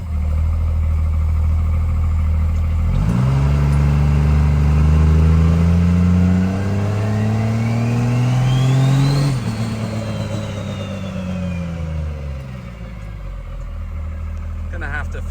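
A truck engine in 4-wheel drive revs up steadily into a long rising whine as its tires spin, then drops back toward idle, loud and close with talk underneath.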